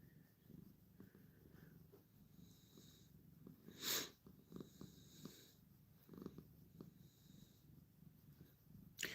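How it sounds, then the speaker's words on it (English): A rescue cat purrs faintly and steadily up close, broken by soft snorts and sniffs, with one sharper rustling burst partway through and no talking. "Mike, he was purring slightly."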